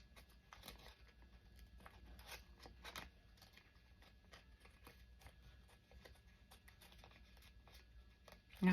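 Scissors snip a paper coffee filter in quick, irregular, faint clicks and crisp cuts, near and quiet with light paper rustle between, and no talking.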